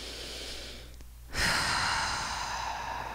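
Deep breathing during a guided vocal warmup: a long inhale followed by a louder, airy exhale up close, with no words spoken.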